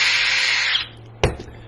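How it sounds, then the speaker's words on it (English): Electric drill fitted with a brass tube bit punching through the corner of a paper notebook: a steady high whine runs for under a second, then stops, followed by a single short sharp burst. "I can drill through the corner of this book all the way through"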